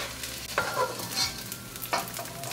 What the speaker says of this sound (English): As the desi ghee heats up, we're going to bring goond and we're going to fry them.